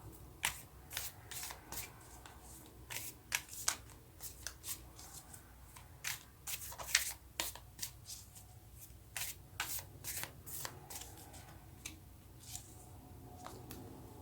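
Tarot cards are shuffled and drawn in a quiet room, a long run of close, rapid riffling and slapping card sounds with brief pauses, and no speech.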